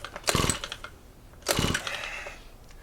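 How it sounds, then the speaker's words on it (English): The recoil starter cord of a small engine being pulled twice, each a quick ratcheting, whirring rasp, close and moderately loud, with a pause between the pulls. "whenever I'm starting an engine is I pull it a little bit, just a little bit"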